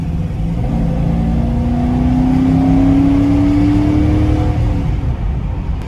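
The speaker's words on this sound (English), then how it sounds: "It's a smogged out 302, but it makes cool noises and that's good enough for me." A 1995 truck with a smog-equipped 302 V8 engine revving steadily, a loud continuous engine roar rising in pitch through the middle and easing off, heard close with no talk.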